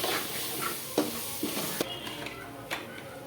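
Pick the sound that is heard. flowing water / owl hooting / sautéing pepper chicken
sautéing pepper chicken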